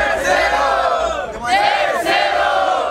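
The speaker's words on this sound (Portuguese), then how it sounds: "Barulho e mão pra cima pro Mota" A crowd at a Brazilian street rap battle in Barueri roars, cheering and shouting together in loud, dense waves that swell and dip over a few seconds.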